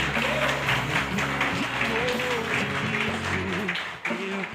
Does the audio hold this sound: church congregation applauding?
yes